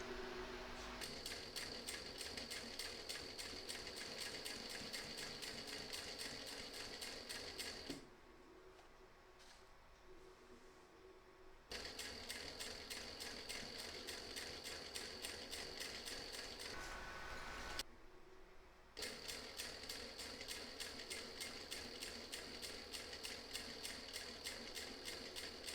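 A home sewing machine runs steadily while stitching around the edge of a reversible quilt with matching bobbin and thread, its rapid mechanical ticking sustained in long bursts with two brief pauses between runs.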